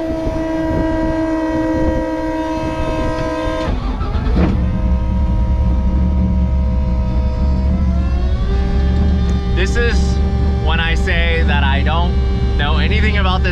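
A hill climb race car engine idles with a steady drone while warming up, then revs up with rising, rough throttle bursts, loud and close.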